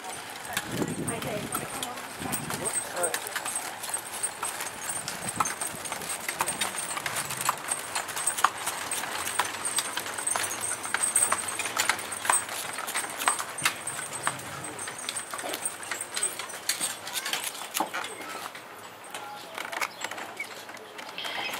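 Horses walking, hooves clip-clopping steadily and fairly close throughout, beneath continuous narration by a man.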